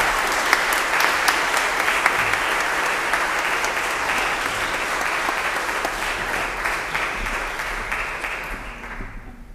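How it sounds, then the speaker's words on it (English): Sustained applause from a church congregation at a memorial service, a dense steady wash of many hands clapping at moderate loudness for nearly ten seconds, fading slightly at the end. "So I would like for us all to just give an applause for the life of Marty"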